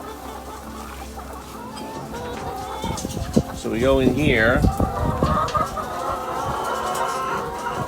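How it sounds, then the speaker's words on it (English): Chickens cluck and chatter close by in Puerto Rico, having got inside, with someone talking over them and some shuffling movement. "these chickens have got in here"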